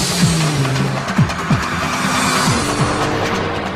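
A VW Golf GTI W12 with a 650-horsepower engine pulls hard, its engine note rising and dropping through repeated gear shifts, with a hint of tyre squeal. The sound is loud and close and carries no talk.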